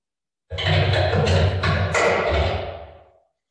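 Keyboard clicks smeared by heavy artificial reverb into a washy, sustained roar that swells quickly and fades out slowly after about three seconds.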